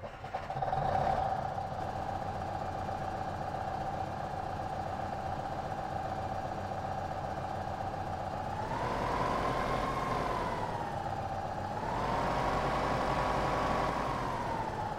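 A tractor engine in Farming Simulator 15 runs steadily at idle, a constant droning hum that rises in pitch twice as the revs climb and settle, heard alone.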